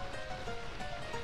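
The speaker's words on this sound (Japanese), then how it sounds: "水の音がすごい。" Rushing water echoes through a cave in Final Fantasy IX, a steady, soft hiss of flowing water with faint tonal game sounds layered over it, continuous and without speech.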